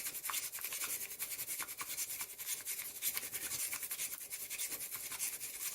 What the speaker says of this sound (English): So really whisk quite hard.